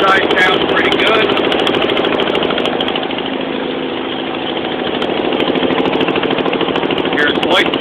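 A Simplicity 6116 garden tractor engine runs loud and close with a throbbing, slightly uneven idle that hints at a skip. The drone dips a little in the middle and then comes back up.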